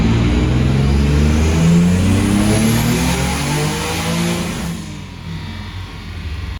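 A turbocharged VQ35DE engine in a Nissan 300ZX revs hard on a dyno, loud and close with a steady roar. It eases slightly before dropping to a quieter idle near the end.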